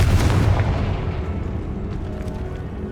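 A Confringo blasting spell explodes in Hogwarts Legacy, a single loud boom with a heavy low rumble at the start that decays into a lingering, fading roar.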